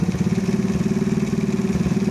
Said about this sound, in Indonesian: Masih sangat-sangat stasioner ya bos ya